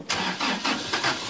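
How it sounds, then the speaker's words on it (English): A Toyota Hilux running on a wood-gas gasifier cranks repeatedly without firing, the starter whirring in a quick rhythmic series of five or so pulses, close and loud, with no speech. "But the engine just won't catch."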